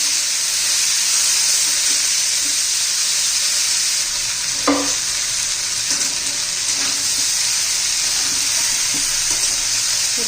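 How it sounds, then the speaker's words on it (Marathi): Abhay bean pods, a wild monsoon vegetable, sautéing in oil in a pan, a steady close sizzle with occasional soft clinks of stirring, no voices. "मी आता दोन तीन मिनटं परतून घेते"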